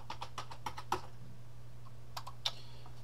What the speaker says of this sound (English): don't listen to my keyboard as I type a fast, unacceptable password